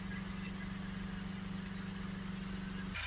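A Renault Espace 2.0 dCi diesel engine idling, a steady, even low throb with a faint rattle, heard close and alone, with a brief brighter noise rising right at the end.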